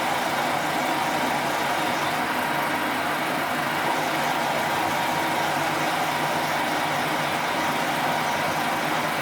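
A 60-year-old machine tool boring out a part in a workshop, giving a loud, steady, unbroken mechanical drone with a low rumble that keeps an even level throughout.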